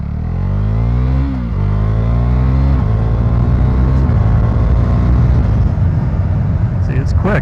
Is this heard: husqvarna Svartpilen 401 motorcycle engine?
yes